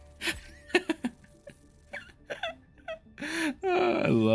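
A string of short burping and gulping noises plays over a livestream, erratic bursts ending in a longer drawn-out belch, with faint voices around them.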